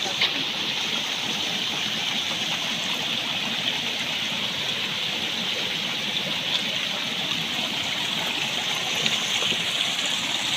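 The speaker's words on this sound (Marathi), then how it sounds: "हे मस्त पाण्याचा आवाज" After monsoon rain, water rushes steadily along a rough village road in the Konkan countryside, a close, continuous gushing and gurgling flow at an even loudness without pause.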